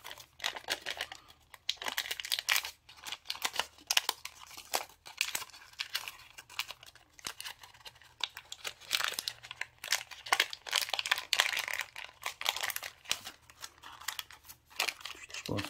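Origami paper is folded and flipped to make the Avatar creature Toruk Makto, giving continuous close crinkling and sharp creasing rustles in quick, irregular bursts throughout.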